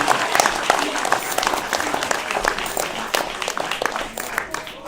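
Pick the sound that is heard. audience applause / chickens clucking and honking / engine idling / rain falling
audience applause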